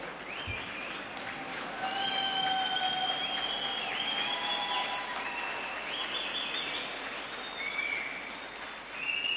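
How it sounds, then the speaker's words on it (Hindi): A large crowd at a political event in Goa gives a standing ovation, clapping continuously, with sharp whistles rising over the sustained applause. "एक बार जोरदार सब लोग खड़े होके तालियां बजा दीजिए"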